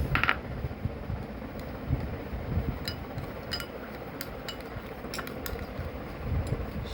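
A spoon stirs a baking soda mixture in a bowl, giving light, irregular metallic clinks and scrapes against the bowl over a soft background, with no talking.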